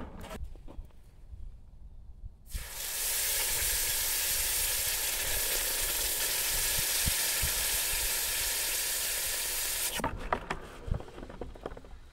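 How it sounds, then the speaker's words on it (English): A loud, steady sizzling hiss as a hot aluminum ingot is quenched in water bursts in after a quieter start, continuing evenly for about seven seconds before cutting off abruptly, with faint clatter around it. "who doesn't like the sound of sizzling hot aluminum in water?"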